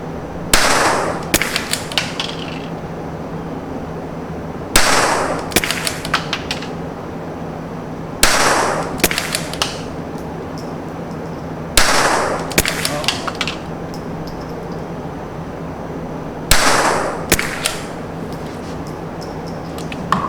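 Five sharp .22 LR rifle shots fired at a target during a CZ versus Tikka rimfire comparison, spaced roughly four seconds apart, each a loud crack with a brief echo over a steady outdoor background.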